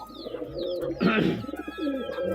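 Pigeons coo close by in soft, throaty repeated calls, with a brief burst of chirping and rustle midway.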